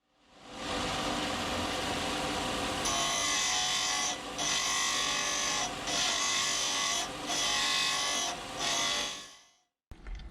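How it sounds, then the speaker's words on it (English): Steel exhaust downpipe piece for a Toyota Starlet 4E-FE turbo build ground on a disc sander, a loud continuous abrasive whir with several short dips where the metal is lifted off, then stopping abruptly near the end. "we're going to sand this down on the disc sander"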